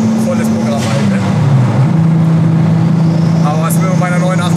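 VW T5 double-cab van with a 700 PS R32 turbo engine, four-wheel drive and an 89 mm exhaust drones at a steady low pitch that dips and climbs, heard close under someone talking through most of it.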